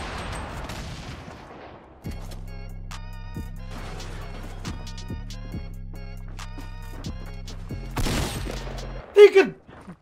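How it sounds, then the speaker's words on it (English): In a Fortnite match, repeated grenade blasts and gunfire ring out as a run of sharp booms over a steady electronic game tone, with louder explosions near the end. "They're spamming nades."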